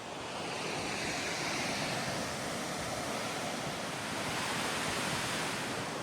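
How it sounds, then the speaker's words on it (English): A steady, continuous roar of rushing water fills the air, broad and unbroken, from Florence Falls in tropical Australia heard from nearby. "We're heading to the Florence Falls. Look out, not gonna go down. You can hear the water already."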